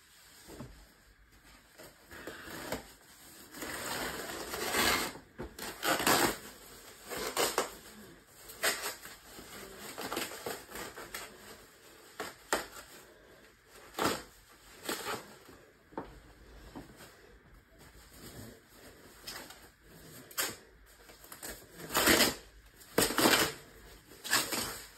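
Crinkly rustling and crushing of packing wrap as a Gretsch Electromatic Jet guitar box is unwrapped, coming in irregular close bursts of scrunching with brief pauses and no talk.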